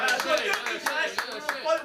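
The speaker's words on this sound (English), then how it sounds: "let's cheer him on to do an Emily impression" A live comedy crowd at a grand final claps and cheers, a fairly quiet patter of clapping with a few sharper claps, mixed with voices and light laughter.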